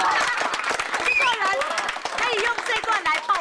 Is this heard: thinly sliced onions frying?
no